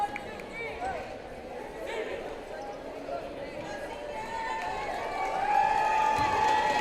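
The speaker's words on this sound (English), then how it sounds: "Lady Panther crowd really getting into this one" Home crowd of Weslaco Lady Panthers fans cheering on their seniors late in a lopsided girls' high school basketball home game, a steady roar of voices with whistles and shouts that swells toward the end under a commentator's talk.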